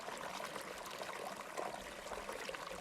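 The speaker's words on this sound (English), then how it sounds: "This is a creek." Sullivan's Creek, an urban waterway, runs with a soft, continuous trickle and gurgle, quiet and steady with no voices.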